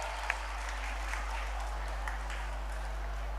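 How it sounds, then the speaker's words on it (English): An audience at a school annual day applauding a play by six- and seven-year-old children, a soft steady wash of many hands clapping, distant and faint under a low hum, with a few sharper claps standing out. "Can we give them a round of applause?"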